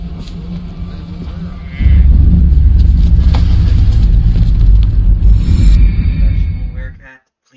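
A bus engine in the LA Noire video game rumbles in loudly after a quieter idle, holding a steady low drone for several seconds before cutting off abruptly.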